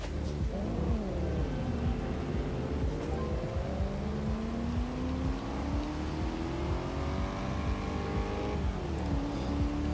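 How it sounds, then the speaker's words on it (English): A small V8 car engine with only 115 horsepower revs in Forza Horizon 2, droning steadily and climbing gradually in pitch through the gears, loud and close with no talk, with a brief dip and rise at the end. "this is easily the smallest V8 we've had on this game."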